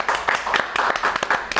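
A small group claps unevenly, quick scattered hand claps close by for a moment.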